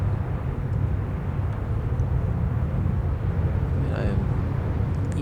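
The Reclaimer ship in Star Citizen lifts off with a heavy, continuous low engine rumble that stays loud and steady throughout, a brief thin whine rising near the end.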